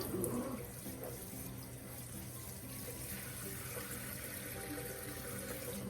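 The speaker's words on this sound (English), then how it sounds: "Making sure I water this in really well." Water pours steadily from a tap or can onto potted plants set in a light, airy potting mix, a continuous close splashing flow that keeps an even level throughout with no speech.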